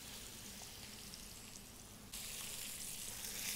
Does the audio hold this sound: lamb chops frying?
yes